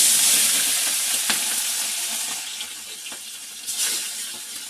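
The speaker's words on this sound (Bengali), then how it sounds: "চুনো মাছ ভাজছি" Small chuno fish frying in very hot oil in a kadai, a loud close sizzle that gradually eases, broken by a few sharp crackles and stirring clicks.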